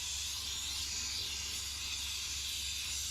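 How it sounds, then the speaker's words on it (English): A handheld steam cleaner used for deep cleaning a car gives a steady, unbroken hiss of hot steam, loud and close, continuing alone for the whole stretch with no talk. "you don't want to put your hand over the steam when it's working"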